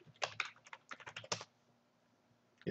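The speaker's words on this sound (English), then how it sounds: "Helps if you type the password correctly." Quick bursts of keystrokes on a computer keyboard while entering a password for a Drupal 7 site login, close and fairly quiet, followed by a short pause of near silence.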